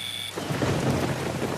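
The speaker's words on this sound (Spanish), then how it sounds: "Un hombre camina bajo la lluvia." Heavy rain pouring with a deep thunder rumble rolling in, dense steady hiss of a storm outdoors, no voices.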